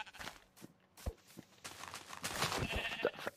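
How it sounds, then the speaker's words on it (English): Sheep bleat in the Minecraft video game, short nasal calls mixed with soft footstep clicks and small game sounds, moderately quiet with no talking. "Gotta get those sheep."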